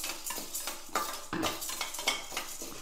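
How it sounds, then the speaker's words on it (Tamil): Chana dal dry-roasting in a hot kadai, stirred with a metal spoon: quick scraping and rattling of the lentils against the pan in a busy, close, continuous rhythm over a light sizzle. "இதில் கடலைப்பருப்பை சேர்த்துக்கலாம். லைட்டாக வறுபடட்டும்."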